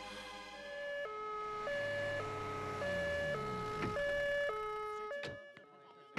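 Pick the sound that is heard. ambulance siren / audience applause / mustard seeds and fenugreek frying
ambulance siren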